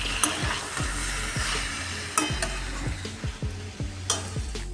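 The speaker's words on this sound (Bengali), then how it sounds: "কপিটা মশলার সাথে নেড়ে নেব" Cabbage fries with spice paste in a pan, its sizzle broken by rhythmic scraping strokes of a spoon stirring against the metal, close and steady.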